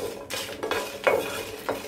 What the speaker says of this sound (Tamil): கொஞ்சம் வந்து லோ ஃப்ளேமில் ரோஸ்ட் பண்ணிக்கலாம்.